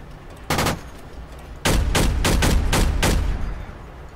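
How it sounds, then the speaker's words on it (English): Machine gun fire during a street fight in the military shooter game Project Reality: a short loud burst, a pause, then a rapid run of heavy, close bursts for about two seconds. "MG firing on the street."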